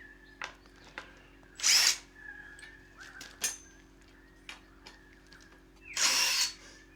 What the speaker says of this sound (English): So I'll get Julie to unscrew that